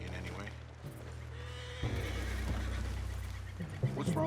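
A horse whinnies and snorts in the Red Dead Redemption 2 video game, with hoof clops and low background rumble, close and fairly loud, with brief talk mixed in.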